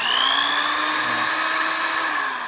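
An electric drill runs continuously as a load on a small solar battery setup, a steady high-pitched whining motor hum that holds for a couple of seconds and then slightly tapers.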